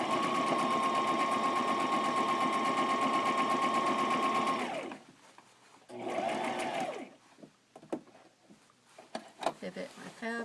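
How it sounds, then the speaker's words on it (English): A sewing machine stitches back and forth across the top of cotton apron fabric for a 1920s–40s style farmhouse bib apron, a steady loud whir for about five seconds, then a shorter burst, followed by quiet handling clicks. "I'm going to sew back and forth right at the top because it's going to take a lot of strain"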